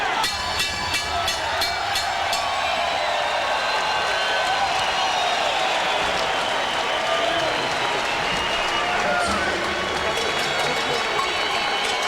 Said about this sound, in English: the crowd loving what it is seen here